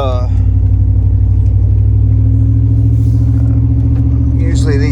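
A lowered 1993 Chevy OBS pickup with a throttle-body 350 V8 holds a loud, steady, deep engine rumble throughout, with a person talking over it.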